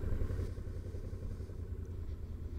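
A Suzuki V-Strom motorcycle cruises along a highway as heard from inside the rider's helmet, giving a steady low engine drone mixed with wind rumble that continues without break.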